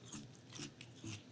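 Crunchy chewing of Magic Spoon frosted cereal, three or four close, quiet bites at a steady pace, each with a crisp high crackle over a low thud.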